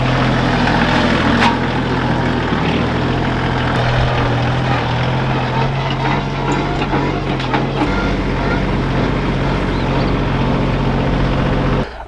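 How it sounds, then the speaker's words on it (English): A farm tractor drives toward piles of wood chips and logs, its low, steady engine rumble running loud and close for the whole stretch, with no talk over it. "let me grab the tractor and we'll head down there"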